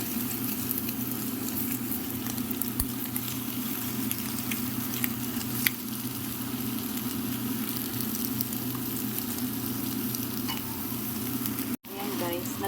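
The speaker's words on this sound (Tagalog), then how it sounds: "Dito ko naman ilalagay yung ating liver." Liver frying in a pan with a steady sizzle that runs throughout, joined by a low constant hum and an occasional faint clink.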